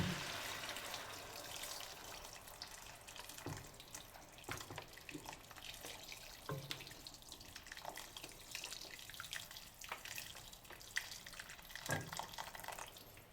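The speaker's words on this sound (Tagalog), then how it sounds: "I put some water." Water runs and splashes into a cooking pot while a rice noodle and beef soup is being made, a steady trickle with a few drips and clinks, fairly quiet and without any voices.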